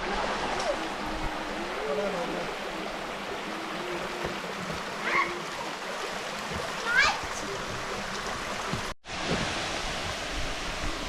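A river rushes and flows in a continuous broadband wash, with faint brief voices and a small splash rising above the steady water noise.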